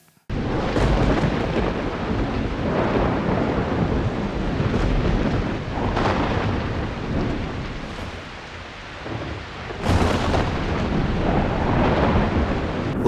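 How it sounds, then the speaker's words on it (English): A thunderstorm raging outside, heard from indoors: a continuous wash of rain and wind swells into loud thunder rumbles and cracks at intervals, with no one speaking. "we are pretending as if we are in the middle of a lightning storm, like there's thunder and lightning going on"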